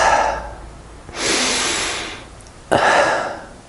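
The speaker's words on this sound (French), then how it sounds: "C'est l'inspire, elle est forcée, on force avec le ventre, légèrement" Forceful Wim Hof breathing exercise: two long, loud inhalations drawn hard from the belly with no pause between, a rushing breath sound close to the mic, separated by a short quieter exhale.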